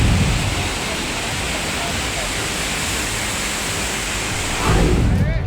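Floodwater rushes through swollen rivers in Uttarakhand, a loud, continuous broadband roar like a torrent that holds steady throughout and swells briefly near the end.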